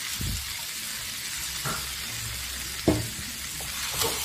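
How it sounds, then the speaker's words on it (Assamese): Jackfruit and potatoes frying with spices in a pan, a steady close sizzle broken by a few clinks and scrapes of stirring, no talking. "এতিয়া মছলাখিনি লগত ভালদৰে ভাজি ল'ম অকণমান সময়"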